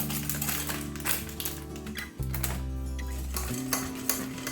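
Chocolate chips being stirred into pancake batter of butter and milk in a bowl, a continuous close scraping and clattering of the utensil against the bowl with a steady low hum underneath.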